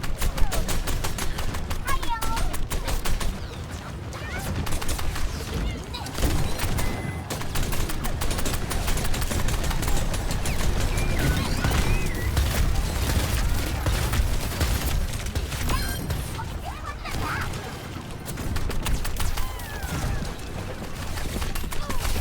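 Bastion's turret-mode gunfire in an Overwatch esports match rattles in a dense, continuous barrage, loud and sustained within a busy game mix with other effects.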